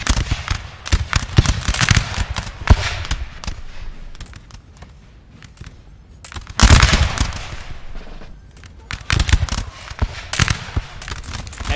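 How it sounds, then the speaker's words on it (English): Musket volleys in a Napoleon: Total War multiplayer battle: loud, crackling bursts of massed gunfire pop in ragged rippling waves, one heavy volley standing out in the middle amid continuous distant battle noise. "Excellent volleys, excellent volleys."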